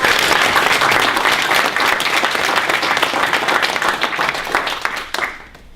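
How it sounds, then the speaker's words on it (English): Sustained applause from an audience at a county candidate forum, a dense, loud wash of many hands clapping steadily before tapering off near the end. "let's give a round of applause for the 100"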